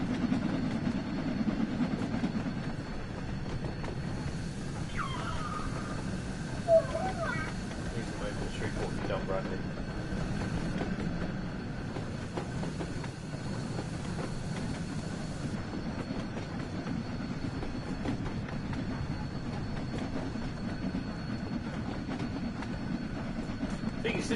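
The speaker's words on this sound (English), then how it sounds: "This loco's been working ever since it's left Liverpool." A steam locomotive working hard in the Train Sim World 3 game, having run since leaving Liverpool, with a steady low rumble and rolling rail noise throughout, a faint tonal hiss overhead and occasional soft clanks.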